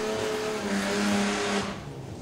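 A turbocharged drag racing car in the 446 Super class launches down the strip at a drag racing championship in Amazonas, a loud, close engine roar with rising pitch that fades quickly as the car pulls away.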